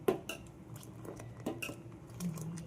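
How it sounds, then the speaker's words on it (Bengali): A ladle stirs boiling tea in a pot, giving several light metallic clinks and scrapes at irregular intervals over soft background bubbling, fairly close and quiet. "তারপরই আমার এই হাতা দিয়ে না নাড়লে না আমার চা করে শান্তি পাই না"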